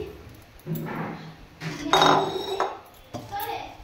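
A metal pot lid comes off during cooking in a home kitchen, with clinks and clatters of cookware knocking together in separate bursts, close by and moderately loud.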